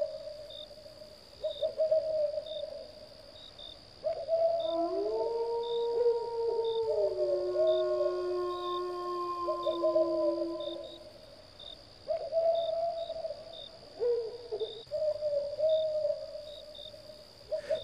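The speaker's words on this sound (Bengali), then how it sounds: "দূরের বাঁশবাগানের দিক থেকে হালকা বাতাসে ভেসে আসছে প্যাঁচার ডাক।" An owl calls from distant bamboo groves on a dark, still night, its hoots drifting in as low tonal notes over a steady high insect drone, repeated in a few separate bursts.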